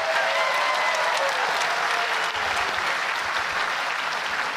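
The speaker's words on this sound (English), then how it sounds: "Let's give them a round of applause." An audience at a university commencement ceremony applauds steadily and loudly, a dense wash of clapping that continues unbroken throughout.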